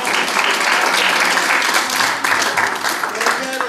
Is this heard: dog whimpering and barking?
no